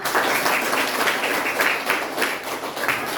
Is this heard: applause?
yes